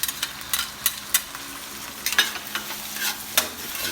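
Shrimp stir-fry with garlic and onion in a hot pan, a low sizzle broken by repeated sharp scrapes and clacks of a spatula tossing the ingredients, close and fairly loud.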